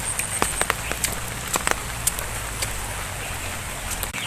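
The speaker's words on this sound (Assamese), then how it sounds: "বৰষুণ পৰিছে যিহেতু ছাতি তাতি লৈ আহিছোঁ।" Rain falling outdoors in wet, muddy surroundings beside a pond, a dense, steady patter with scattered sharper drops against a constant low background hum.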